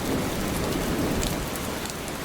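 Steady rain falls on a surface at close range with a dense, even hiss, and faint thunder rumbles low beneath it throughout, with no voices.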